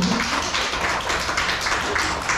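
A seminar audience in a Busan hotel claps continuously, giving a thick, even wash of many hands close by with no pauses.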